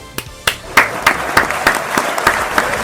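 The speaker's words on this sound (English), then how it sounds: "you get claps for that" Applause effect of a small crowd clapping, with sharp regular claps roughly every third of a second standing out over a steady layer of scattered hand claps, loud and close.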